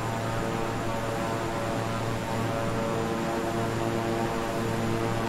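Twin-engine King Air 350i turboprop in Microsoft Flight Simulator, flying low on approach between Hoquiam, Washington and Astoria, Oregon: a steady, loud droning hum with constant tonal engine whine throughout, no voices.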